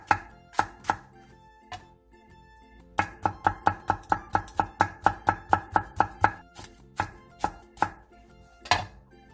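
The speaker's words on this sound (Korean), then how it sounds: "대파 조금을 길게 반으로 갈라 쫑쫑 썰고 청양 홍고추 반개도 길게 반으로 갈라 쫑쫑 썰어주세요" A knife chops green onion and half a red chili on a board in crisp, close strokes, first a few spaced cuts and then a fast, even run of chops, with no talking.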